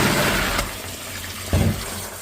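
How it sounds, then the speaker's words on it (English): Tap water running into a bowl while raw, freshly harvested peanuts in their shells are washed with salt, a steady close splashing wash with a couple of louder sloshes. "add enough water, add salt, then wash the peanuts to remove any dating"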